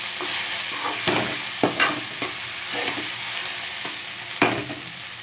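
Okra being sautéed with chili powder in a pan: steady sizzling with repeated scraping and stirring strokes from a spatula, close and alone, no talk.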